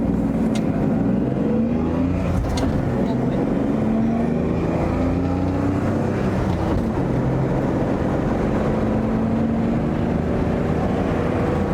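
An old 1979 Datsun 280ZX engine revs and drives at a steady loud level, its pitch rising and falling with gear changes, with road and wind noise running throughout.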